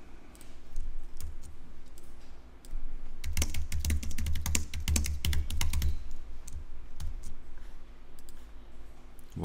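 Keys clatter on a Mac computer keyboard, with a few scattered taps, then a dense, rapid burst of typing, followed by sparse clicks, close and clear with no talking.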